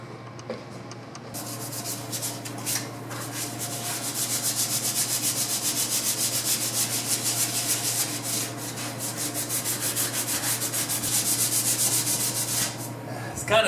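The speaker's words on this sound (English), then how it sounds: "It kind of sucks sanding by hand, but there's no other way to get a machine up in here" Hand sanding primer off the body of a square-body K5 Blazer, a steady scratchy rubbing that runs on and on in close, rhythmic strokes with no talk.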